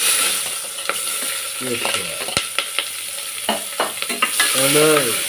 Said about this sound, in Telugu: ఒక నిమిషం పాటు అలా వేయించుకోవాలి తర్వాత ఉల్లిపాయలు పచ్చిమిరకాయ పచ్చిమిరపకాయలు